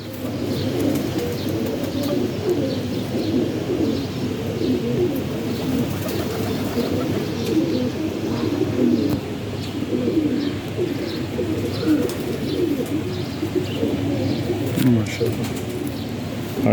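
Teddy pigeons in a pigeon loft in Lalyani, Qasoor, coo continuously in a close, dense chorus of low rolling calls, with occasional faint chirps above a steady background murmur.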